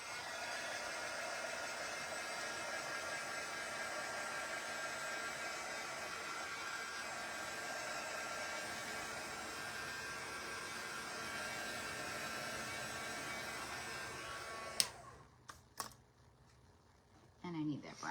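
A hair dryer blows steadily to dry paint on a wooden cutting board, a constant loud whoosh for about fifteen seconds before it cuts off, leaving a few faint handling clicks.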